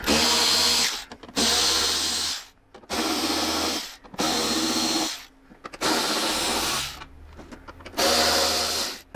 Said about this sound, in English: So we're gonna go ahead and start removing those screws now.